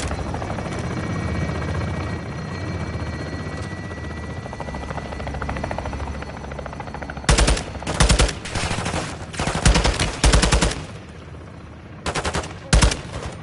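A helicopter drones steadily in a Modern Warfare 2 campaign battle, then its gunfire strike hits in several heavy, loud bursts separated by short pauses.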